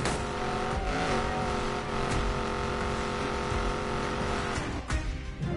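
A supercar launches at full throttle in Need for Speed Payback, its engine roaring loud and continuous with rising harmonic tones as it accelerates, a sharp burst near the end.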